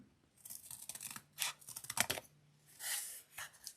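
Scissors trim along paper in a run of quiet, irregular snips and cuts, close and soft with no talking.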